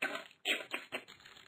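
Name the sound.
typing on a computer keyboard while Googling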